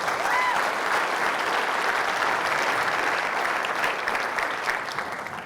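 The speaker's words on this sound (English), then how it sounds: "You want to give him a round of applause?" Steady, dense applause from a large audience at a business event, loud and continuous for several seconds with no break.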